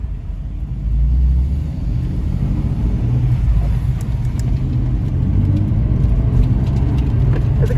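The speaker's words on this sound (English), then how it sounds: "It's time for the first drift of the day" A car on the track at Rockingham for a drift run, its engine a loud, steady, close rumble that swells early on and holds a constant drone, with no voices over it.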